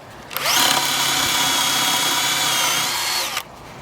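A power drill drives screws into posts during a koi pond build, making one close, loud whirring burst of about three seconds that spins up and stops sharply.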